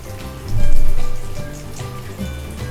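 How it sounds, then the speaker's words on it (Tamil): Semolina-coated fish fries slowly over low heat in a pan, a steady crackling sizzle like light rain that swells briefly and then settles back, close up with no voices. "ரவை போட்டிருக்கோம்ல, அதனால் ஸ்லோவாக வச்சு ஃப்ரை பண்ணுவோம்"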